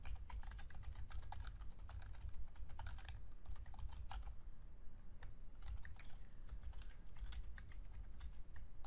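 Fingers type code on a computer keyboard in a steady flurry of light key clicks with a few brief pauses. The sound is faint and close, with no speech.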